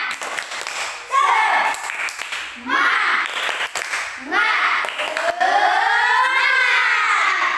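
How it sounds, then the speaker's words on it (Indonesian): Schoolchildren in an Indonesian classroom chant a rhythmic spirit cheer together, loud sung voices rising and falling in repeated phrases over a light patter of hand claps, filling the room close up. "kita tepuk semangat ya. Tepuk semangat."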